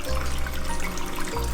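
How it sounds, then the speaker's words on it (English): Gardyn indoor garden watering system running, a steady low hum of pump and flowing water that continues throughout, with a slight shift in tone near the end. "so it's watering right now"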